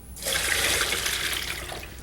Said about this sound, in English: pour them all through a sieve